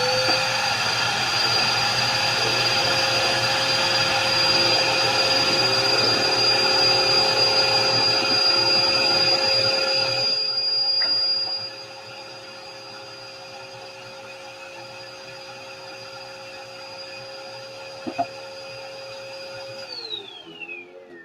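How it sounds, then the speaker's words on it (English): A vacuum cleaner sucking up dust in a workshop, a steady loud whining drone that drops to a lower, quieter hum halfway through as the load changes, with a few small clicks near the end. "I'm going to vacuum up the dust."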